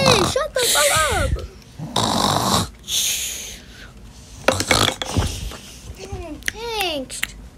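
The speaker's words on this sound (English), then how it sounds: "this girl's snoring all on the Zoom call" Someone snores loudly through a Zoom class call, with raspy rising breaths repeating between bursts of young voices talking and noise over the line.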